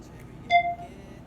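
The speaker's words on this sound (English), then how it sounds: "When you hear the beep, we'll get started." A short electronic exercise-timer beep sounds once, clear and moderately loud, as a full-body circuit workout begins, with only faint room noise around it.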